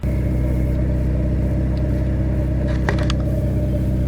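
A VW Corrado G60's supercharged engine pulls at full throttle in gear, a loud, steady drone with a continuous low rumble throughout and brief faint clicks near the end.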